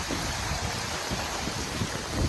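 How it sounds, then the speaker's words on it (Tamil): Floodwater rushing along a road during a cyclone, a steady broadband roar of flowing water with no voices, constant and close. "இங்கே தண்ணியோட ஃப்ளோ வந்து கொஞ்சம் அதிகமாகவே தான் இருக்குங்க."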